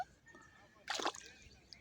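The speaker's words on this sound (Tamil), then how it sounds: "மழையெல்லாம் கூட பெய்யுது" Water splashes in a short burst at an outdoor pond on a rainy, breezy day, rising out of a faint background for about a quarter second before fading back to quiet.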